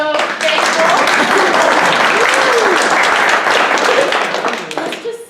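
A lecture audience claps loudly and continuously for about five seconds before the applause fades out toward the end.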